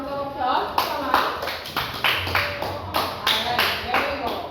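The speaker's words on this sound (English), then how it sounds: "give him a round of applause" Classroom group clapping in short bursts, several hands together with uneven rhythm, moderately loud and close, mixed with chatter and voices in the room.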